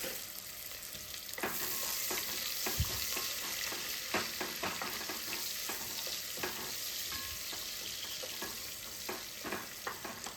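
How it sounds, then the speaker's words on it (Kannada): Chopped onions fry in oil with cumin, cardamom and spices inside a pressure cooker, a steady soft sizzle with light scattered clicks of stirring, close by with no talk. "ಇವಾಗ ಇದು ಚೆನ್ನಾಗಿ ಫ್ರೈ ಆಗ್ತಾಯಿದೆ"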